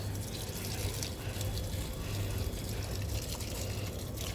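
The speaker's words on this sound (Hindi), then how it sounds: "आज डाल रहे हैं गमलों में पानी" Water pours steadily into plant pots on a home rooftop in summer, a continuous splashing trickle, close and fairly constant throughout.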